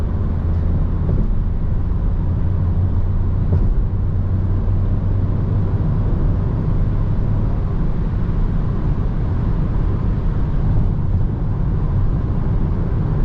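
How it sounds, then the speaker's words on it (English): Inside a Citroen C4X at around 130 km/h on the highway, a steady low rumble of tire roar blends with a broad wind hiss, continuous and even. "I can hear mostly tire noise and wind noise"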